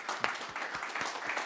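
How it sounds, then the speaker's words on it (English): An audience at a talk on European deep tech innovation applauds, a brief burst of many hands clapping, moderately loud and fairly close. "I've got to pause for the applause"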